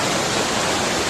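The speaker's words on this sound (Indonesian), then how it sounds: "inilah bentuk air terjun Silangi-Langit sekarang ini" The Silangit-Langit waterfall in Subulussalam, Aceh, recovering after a flash flood, pours in a dense, loud, constant hiss of rushing water with no pauses.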